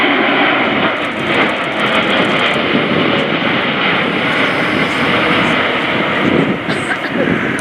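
Airbus A400M Atlas military transport aircraft flying a low-level manoeuvring display at an air show, its loud, rough turboprop roar filling the air continuously while a commentator talks over it.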